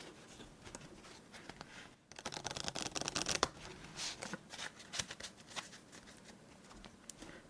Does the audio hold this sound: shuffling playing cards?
yes